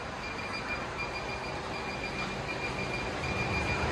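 The loud exhaust of a supercharged Camaro SS produces a dense, harsh roar that stays steady and continuous, as if at close range, with a shrill high edge and no talk.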